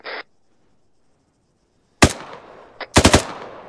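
Gunfire in the military shooter ArmA 3: one short burst, a pause of silence, then a sharp crack and several rapid automatic bursts, loud and close, with no talking.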